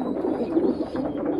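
Pigeons in a loft coo with a continuous low, throaty murmur, several birds overlapping in a warm steady drone heard up close, without talk.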